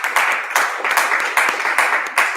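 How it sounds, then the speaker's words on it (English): Applause from a livestream audience at an album release event, a steady wash of clapping that pulses in short waves for a couple of seconds, fairly close and with no talking over it. "We'll give her a round of applause"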